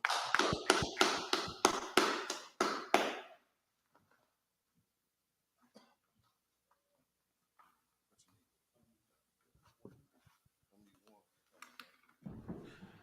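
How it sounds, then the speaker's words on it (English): A group of people clapping hands in a burst of quick, loud, rhythmic claps at a brotherhood class gathering, fading out after a few seconds into quiet room noise with faint scattered sounds. "Clap it up."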